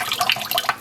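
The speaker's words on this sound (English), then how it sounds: "So I am filling our basin back up with water" Water running into a basin in a home dyeing setup, a bright continuous splashing and trickling close by with no talking.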